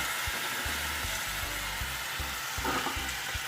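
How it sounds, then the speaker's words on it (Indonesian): Minced meat sautés in a frying pan with a dense, steady sizzle and rhythmic low thumps of stirring, close and continuous with no talking. "Ya, udah tumis, masukin daging."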